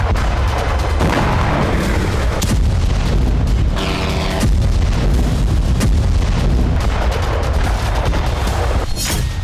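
Heavy artillery fire near Kharkiv, a dense continuous roar of booms and blasts that overlap without pause, loud and rumbling throughout.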